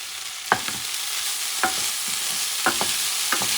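Arròs Negre, a black paella, being stirred as it fries in a pan: a steady hiss of sizzling with several distinct scraping stirs of the spoon spaced about a second apart.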